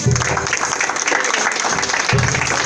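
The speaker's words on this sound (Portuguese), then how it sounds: "Peço uma salva de palmas." An audience applauds after a formal greeting, with loud, dense clapping that stays steady and close throughout, under a background murmur.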